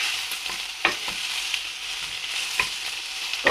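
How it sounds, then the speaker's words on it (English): Onions frying gently in a pan for a lentil and tofu dish: a steady, bright sizzle throughout, with a few sharp clicks and scrapes of a utensil stirring, close and alone without talk. "we just want to soften up those onions just a tad"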